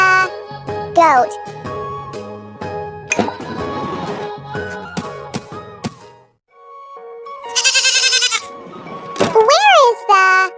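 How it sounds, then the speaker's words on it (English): Goat bleats from a farm-animal sound set for children, wavering cries rising and falling, with a voice speaking between them and a brief silent gap mid-clip. "Where is the goat?"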